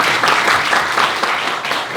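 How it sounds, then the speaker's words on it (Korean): An indoor audience claps in a continuous burst of applause at a Christian federation lecture, dense and steady for about two seconds, with no speech over it. "우리 한 번 더 박수로"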